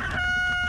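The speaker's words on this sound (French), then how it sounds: "c'est le coq qui vient de la ferme des elfes" A cartoon rooster crows once, a short loud tonal call with a steady high pitch that holds over a soft background bed.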